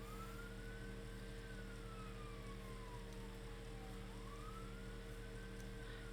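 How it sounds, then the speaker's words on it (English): A faint emergency siren wails and sweeps up and down in pitch in the distance, over a steady low hum of traffic or engine noise. "I heard my first siren today."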